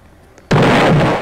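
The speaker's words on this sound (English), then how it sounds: "Whoa, that was a big explosion." After a near-silent moment, a big video game explosion bursts in suddenly, very loud and roaring for a sustained stretch before easing slightly.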